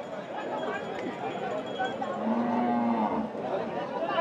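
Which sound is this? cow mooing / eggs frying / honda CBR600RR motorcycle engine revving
cow mooing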